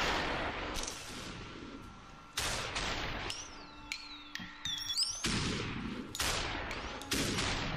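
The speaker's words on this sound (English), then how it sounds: "Who is shooting?" Sharp gunshots crack out in the stylized shooter Superhot, several loud isolated bursts with long decaying tails, spaced irregularly between stretches of quieter game ambience and thin whooshing effects.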